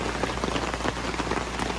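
Heavy rain patters on a camper during an early-morning thunderstorm, a dense, close, steady hiss of drops striking the surface with no voices.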